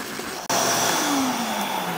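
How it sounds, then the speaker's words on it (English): Shop vac fitted with a RipClean extractor kit vacuuming damp carpet in dry passes, a loud steady motor roar with airflow hiss that cuts out briefly, then resumes at full strength with a shifting whine. "now I will take just a couple passes completely just in vacuum"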